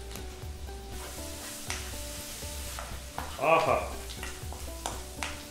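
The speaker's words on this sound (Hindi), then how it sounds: "जीरा 1 बड़ा चम्मच ले रहा हूँ, इसमें हरी मिर्चें डालूंगा 3-4 बस, ये लीजिए, अब इसको भूनेंगे अच्छे से" Cumin seeds and three or four green chillies fry in oil for dal, giving a steady sizzling hiss with occasional stirring scrapes and a brief swell of bubbling midway; a short exclamation is heard once.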